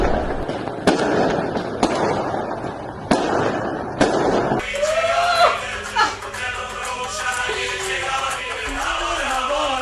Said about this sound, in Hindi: जब मरा तो ईरान में पटाखे फोड़े जा रहे थे।